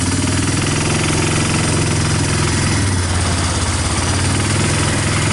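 A 1999 Yamaha Bear Tracker 250 ATV engine running with the choke partly on after a clutch adjustment, a loud, close, steady rattling idle with a rapid pulsing throb and no pauses.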